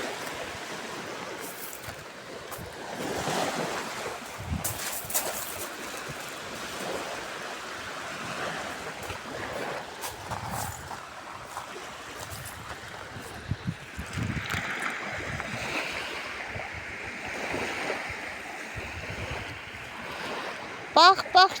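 Sea waves wash against the shore in a soft, irregular hiss and rumble that rises and falls, with gusts of wind buffeting the microphone and scattered voices nearby.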